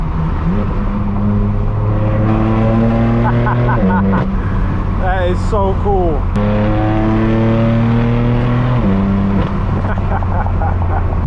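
A straight-piped BMW M4 F82 with an inline six roars at full throttle above 3,000 RPM, deep and raspy, climbing through gears with brief shift breaks, loud and close from inside the car while a person speaks briefly.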